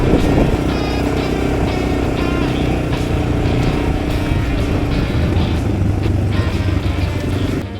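Motorcycle riding back down a mountain on a back-country trail in British Columbia, its engine a loud, steady close drone with slight throttle changes throughout.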